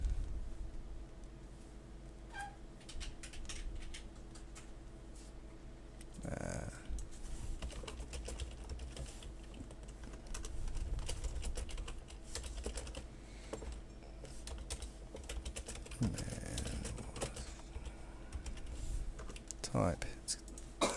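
Typing on a computer keyboard while working in a form designer, with steady clicking keystrokes throughout and speech heard intermittently over the taps.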